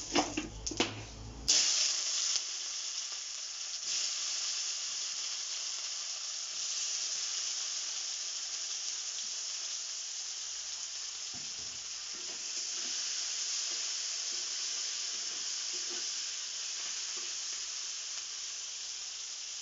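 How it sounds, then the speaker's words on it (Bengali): Cumin seeds tempering in hot oil, a loud initial crackle as they hit the pan settling into a steady, continuous sizzle and hiss that carries on alone. "এবার জিরে ফোড়ন দিচ্ছি"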